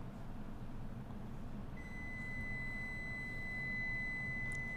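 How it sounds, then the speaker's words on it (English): A kitchen timer for baking cinnamon rolls sounds as a steady, thin electronic tone that starts partway through and holds to the end, fairly faint over a low background rumble. "It's the timer for the cinnamon rolls, but I already took them out."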